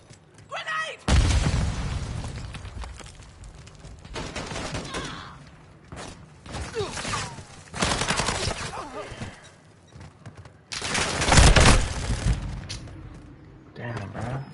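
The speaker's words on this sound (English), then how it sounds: "Grenade!" A grenade explodes in a video game, giving a loud booming blast among several heavy bursts of gunfire and crashing impacts that come and go across the stretch, with voices talking over the action.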